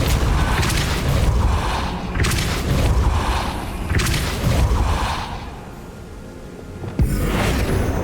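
Spell casting in Hogwarts Legacy, a Depulso force spell: loud, booming magical blasts with whooshing swells recur several times across the clip, each burst followed by a short lull, ending with a sharp thump.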